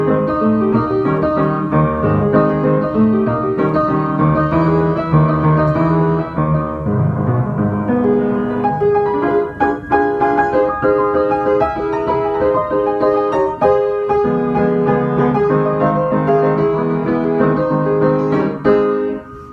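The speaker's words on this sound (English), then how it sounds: "And altogether, the first section of the Maple Leaf Rag sounds like this." Solo piano plays the opening section of Scott Joplin's Maple Leaf Rag, with a bouncy syncopated melody over a steady oom-pah bass, loud and close, continuous with no talking.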